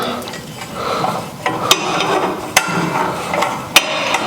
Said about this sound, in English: Testing the cam lock, rather.